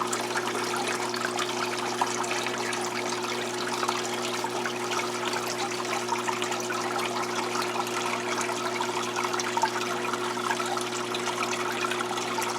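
Water siphoned from a brackish aquarium holding Bumblebee Gobies, a steady, even trickle and gurgle that runs unbroken for the whole stretch over a constant low hum, with no voices.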